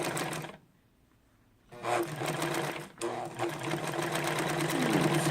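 A Dressmaker SL-2010 sewing machine stitches a decorative zigzag pattern, running in a steady close whir, stopping briefly, then restarting and running continuously to the end.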